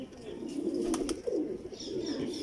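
Several teddy-breed pigeons coo in an overlapping, continuous low murmur that stays close and steady, with faint chirps above it.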